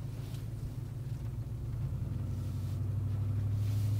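A truck fitted with a 6L80 automatic transmission pulls away from a parking lot, its engine a low steady rumble that builds slightly in loudness as it drives off, with no talking.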